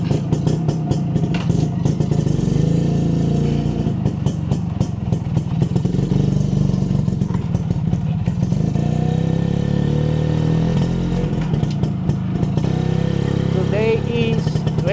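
A Honda HD3 125cc motorcycle, not started for about three days, runs at a steady idle with a low, chugging rumble and light mechanical clatter throughout, while a voice talks over it.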